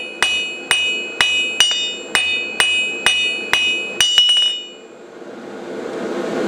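Blacksmith's hammer striking hot steel on an anvil to flatten the end of a toasting fork: about nine loud, ringing blows at a steady, even pace, followed by a low hiss once the hammering stops.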